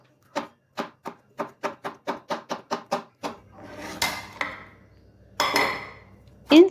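A knife chops garlic and onion finely on a board for a peri peri sauce, with about eleven crisp, evenly spaced strikes followed by looser scraping and clattering near the end.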